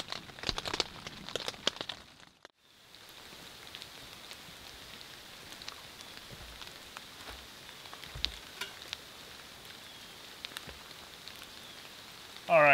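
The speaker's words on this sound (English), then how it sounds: "beautiful view of the lake getting rained on out the window" Rain falls on a camping hot tent beside a lake, a dense steady patter with scattered louder drops and a brief lull near the start, heard up close from inside.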